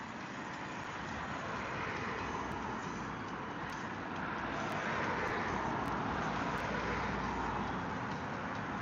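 Steady city street traffic in Dublin makes a continuous broadband roar of passing vehicles, moderately distant and unbroken, with a few faint clicks on top and no speech.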